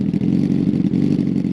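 Engine of a 2018 Honda CBR1000RR, its 998cc inline-four producing a loud, steady mid-pitched drone with slight fluttering pulses, close and alone.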